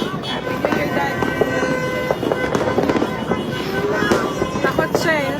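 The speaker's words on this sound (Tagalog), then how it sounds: "Tingnan mo yung fireworks." New Year fireworks burst and crackle continuously in a rapid, dense volley, with whistling rockets streaking up and people calling out nearby.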